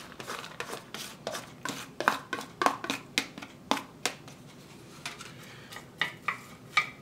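Chopped onions and celery are sautéed in a pan for a Hatch chili BBQ sauce, with a steady run of sharp spatula scrapes and taps close by and a faint background hiss.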